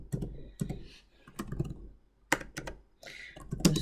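Fingers typing Java code on a computer keyboard, bursts of crisp close key clicks in short irregular runs separated by brief pauses.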